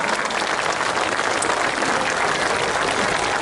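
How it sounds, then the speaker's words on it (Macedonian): A concert audience at a classical music event in Delčevo breaks into loud, continuous applause, a dense wash of many hands clapping at once from start to finish. "еден голем аплауз за тоа"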